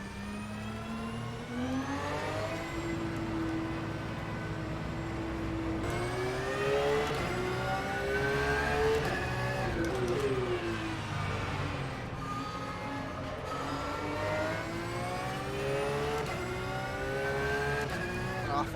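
Race car engine in a racing video game revving and accelerating through repeated gear shifts, the pitch climbing and dropping in long sweeps, loud and continuous with no talk over it.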